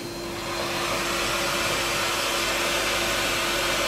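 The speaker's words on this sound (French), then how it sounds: "Donc décapeur thermique," A heat gun blows steadily over a terrine of chocolate for truffles, giving a constant loud whooshing drone that holds alone without pause.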